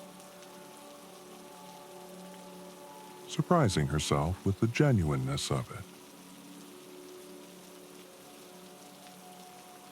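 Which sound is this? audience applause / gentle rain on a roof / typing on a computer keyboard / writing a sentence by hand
gentle rain on a roof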